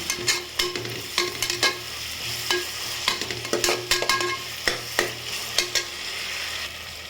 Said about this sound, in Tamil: இப்போமா கொஞ்சமாக இஞ்சி பூண்டு சேர்த்துக்கலாம் அதை சேர்த்து நல்லா வதக்கிக்கலாம்